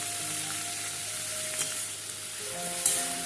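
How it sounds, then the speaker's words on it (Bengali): Carrots, beans and capsicum fry in ghee and oil with a constant nearby sizzle, punctuated by a couple of brief spoon scrapes against the pan. "এখানে হচ্ছে গাজর বিন আর একটু ক্যাপসিকাম ছিল তো সেটাকেও দিয়ে দিলাম ভাজতে"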